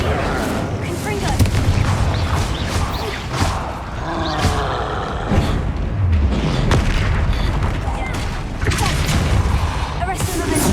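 Confringo spell explosions in Hogwarts Legacy, a run of loud booming blasts one after another, with crackling debris and shouted spell calls over the action.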